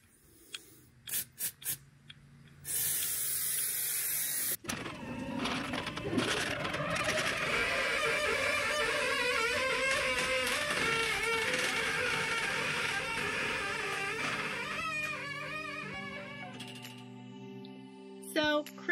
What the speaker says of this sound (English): I just deployed the slide a few times, let the lube do its job